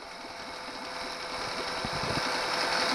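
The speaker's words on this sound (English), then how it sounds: "Pretty powerful engine." A DIY outboard motor driven by an Arduino Uno speed controller runs in water, giving a steady whirring, buzzing drone that grows slightly louder over a few seconds, with faint clicking in the low end.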